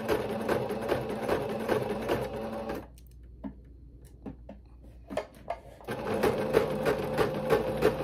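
A sewing machine sews the elastic channel on ruffled tutu socks in a rapid, close buzzing run, stops for a few seconds of quiet clicks and fabric handling, then starts again and stitches steadily to the end.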